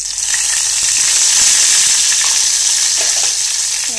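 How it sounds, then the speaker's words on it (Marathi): Asafoetida and a few curry leaves sizzle and crackle in hot oil in a pan while cooking urad dal curry, a loud steady fry with small pops and no talking. "थोडा हिंग टाकते मी, 4-5 कढीपत्त्याचे पानं, अगदी कमी टाकते."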